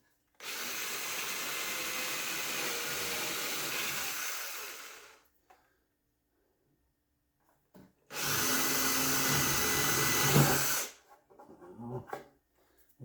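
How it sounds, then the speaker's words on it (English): A power drill whirs steadily in two long bursts, each several seconds, pre-drilling starter holes in wood, separated by a quiet pause and followed by light clatter, close and loud. "I'm just going to pre-drill some starter holes so I don't split any of the wood"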